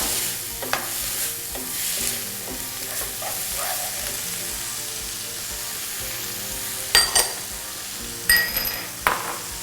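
Vegetarian Thai basil stir-fry, Shanghai-style, tossed over high heat: steady loud sizzling with repeated scraping stirs and a few sharp metallic clinks of utensil against pan near the end.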